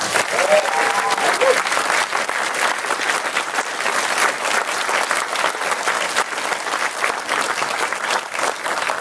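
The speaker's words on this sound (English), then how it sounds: "Please give a huge round of applause for Christina Lindberg." A film screening audience gives loud, sustained applause welcoming a guest to a Q&A, dense continuous clapping with a brief voice near the start.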